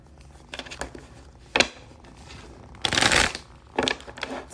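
Tarot cards shuffled in bursts of crisp riffling and patter, close and fairly loud, with short pauses between handfuls and no talking.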